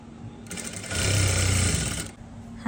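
A sewing machine stitches an umbrella dress, its motor whirring in a steady, loud run for over a second before stopping, with faint room noise around it.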